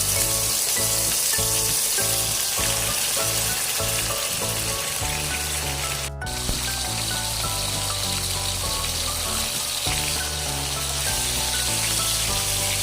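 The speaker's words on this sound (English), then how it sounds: "Heat oil and start frying the pork chop." A pork chop sizzles and crackles steadily in hot oil, a dense, continuous frying hiss close by with no talking.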